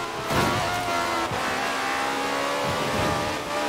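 Engine of a Citroen revving hard at full throttle in the racing game Forza Horizon 4, a loud continuous rising whine with gear-change dips and a brief tire squeal, no talking.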